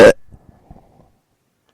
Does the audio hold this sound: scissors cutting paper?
no